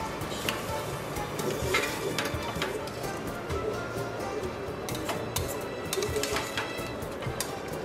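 Soaked, drained rice being stirred into spices in a pan, heard as a continuous gritty scraping and rustling with faint sizzle, steady and close, with no talk.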